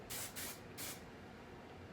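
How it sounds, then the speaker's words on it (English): Hairspray hisses onto curled hair in three quick bursts, the first two close together and the last after a short pause, each a bright airy spritz, fairly quiet and close, with no talking. "I'm gonna be spraying all the curls on this side, all the curls on the other side"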